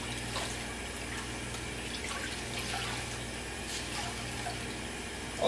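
Tap water runs steadily into a leaky bathroom sink, a faint, even wash of flow with a low hum underneath and no talking.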